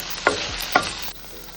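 Quiet stirring of ginger garlic paste in a frying pan with a soft sizzle, two scraping strokes of a spatula against the pan, close by.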